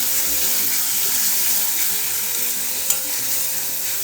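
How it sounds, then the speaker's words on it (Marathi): Green coriander, ginger and garlic paste is sautéed in a pot, making a steady close sizzle with light stirring scrapes and one sharp clink near the end, and no talking. "ते वाटप घेऊन घालणार ह्याच्यामध्ये आणि ते हे जरा चांगलं परतून घेणार आहे"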